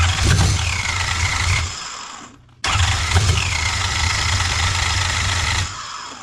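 A Toyota 1UZ V8 swapped into a Nissan 240SX S13 runs with a steady, loud idle, drops away briefly, then abruptly catches again and keeps running.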